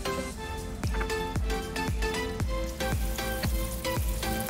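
Butter sizzles in a pan already used to stir-fry beef, a continuous close frying hiss punctuated by about eight regular, sharp scraping or tapping strokes from stirring.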